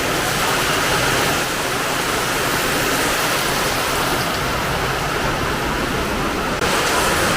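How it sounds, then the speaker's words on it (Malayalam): Heavy rain falling steadily, a loud dense wash of drops close by, continuous and even throughout with no voices. "നല്ല മഴയാണ്"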